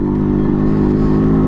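Yamaha RX 100 motorcycle in full, renewed condition, its two-stroke engine running loud and close with a steady, dense throb, heard alone.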